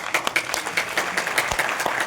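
Scattered applause from a room of people, a steady patter of claps with no one speaking.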